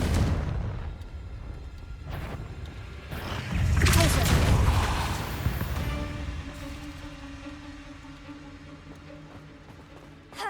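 A Confringo spell explosion in Hogwarts Legacy booms out in a heavy low burst after a short lead-in, then rumbles and fades into a lingering ringing tail.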